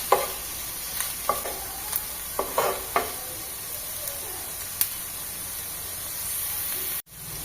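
Spices and Kashmiri red chili frying in a pan for a steamed semolina and almond dish: a steady soft sizzle with scattered crackles and a few stirring scrapes, close and moderately quiet, with no talking.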